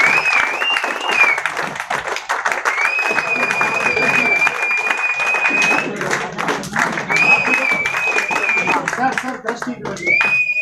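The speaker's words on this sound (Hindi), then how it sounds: "मैं भी बजाता हूँ आपके दिलों के साथ तालियां, जोरदार तालियां, जोरदार" A large audience in Jaipur applauds loudly and continuously, a dense wash of claps sustained for the whole stretch, with voices and a thin whistling tone riding over it.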